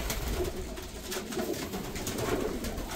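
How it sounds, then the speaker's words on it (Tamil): Pigeons in a farm loft coo and stir, agitated, under a steady broadband wash of background noise with soft fluttering and rustling throughout. "புறாக்கள் களைஞ்சு நின்றுச்சு"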